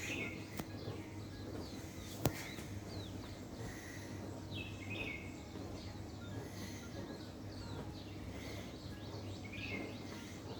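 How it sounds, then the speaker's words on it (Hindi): Morning birds chirp and call intermittently in the distance over a constant low rumbling background, with one sharp click partway through. "ताकि आप लोग सुन सकें चिड़ियों की आवाज़।"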